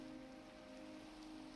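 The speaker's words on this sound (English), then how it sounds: "Or at least until it stops raining." Rain falls in the Minecraft video game, a faint, even patter with a steady low tone underneath and no voices.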